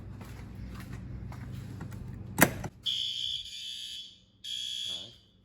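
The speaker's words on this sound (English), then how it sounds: "Alright, it's going off." A building fire alarm sounds during a monthly system test, a loud high-pitched electronic tone after a sharp clunk as the pull station is pulled, blaring in two bursts over room noise.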